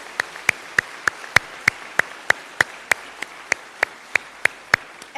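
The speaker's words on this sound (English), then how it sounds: "join me in a round of applause for Leah" A single pair of hands or a very small group gives slow, evenly spaced claps, roughly three per second and fairly crisp, in honor of Leah at a diaspora conference's morning session.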